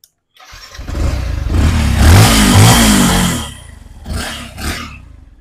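A motorcycle engine fires up loudly, roars steadily for a few seconds, then settles into a couple of quick revs.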